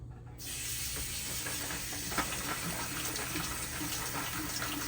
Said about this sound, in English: Always wash your vegetables when you get them.